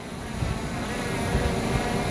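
A Hubsan Zino Pro Plus drone hovers in for a landing in gusty wind, its steady high-pitched rotor whine buzzing continuously and fairly close, with wind noise underneath and no talking.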